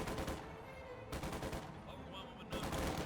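Sustained gunfire in Company of Heroes 2 as Panzer Grenadiers engage a rifle squad holed up in a house, a dense, continuous rattle of rifle and machine-gun fire at steady loudness with short bursts layered over one another.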